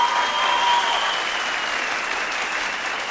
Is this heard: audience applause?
yes